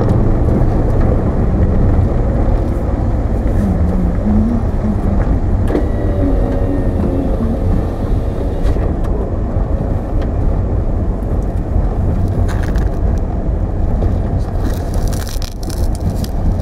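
A car driving along hot, puddled backroads, a loud, steady engine and road roar filling the whole stretch from inside the cabin, with faint passing rattles and no talk.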